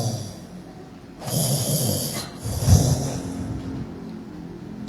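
A voice imitates a sick neighbour's laboured, wheezing breathing, with two long rasping breaths, loud and close, with no speech.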